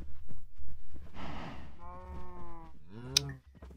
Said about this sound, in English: Want the sheep? Want the sheep inside?